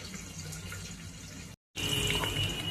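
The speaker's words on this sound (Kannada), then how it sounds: "ಎರಡು ಮೂರು ಸಲ ಈ ಥರ ಅಕ್ಕಿನ ಚೆನ್ನಾಗಿ ತೊಳ್ಕೊಳ್ಳೋಣಂತೆ" Rice being rinsed in a sink under a running faucet, giving a steady, close wash of splashing water that cuts out briefly midway and then resumes slightly louder.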